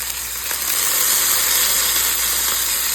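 Beer-infused Italian sausages cook in a pan alongside green pepper, giving a loud, steady, broad sizzle that holds evenly throughout with no voices.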